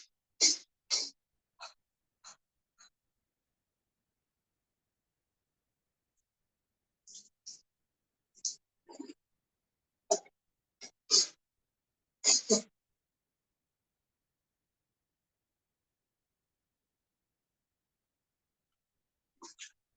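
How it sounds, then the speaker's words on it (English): During yoga breathing practice, a person forcefully sneezes and blasts water out of the nose in a series of short, sharp bursts. The bursts come in irregular clusters separated by long silent gaps, with a final pair near the end. "special type of breathing to sneeze out water inside my nose"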